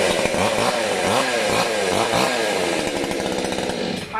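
A two-stroke chainsaw engine runs loud and close, its pitch rising and falling as the throttle is blipped several times before settling.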